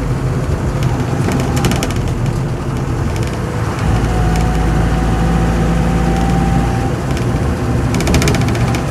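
Land Rover Series 2 88in diesel softtop running steadily, a continuous low rumbling engine drone with constant level throughout, close by and alone.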